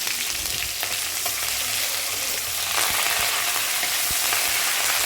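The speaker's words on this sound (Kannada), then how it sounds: "ಉದ್ದಿನ ಬೇಳೆ ಅನ್ನು ಹಾಕಿ ಚೆನ್ನಾಗಿ ಬಾಡಿಸಬೇಕು" Urad dal and mustard seeds fry in hot oil with a loud, steady sizzle and crackle, alone and close up, with faint stirring clicks.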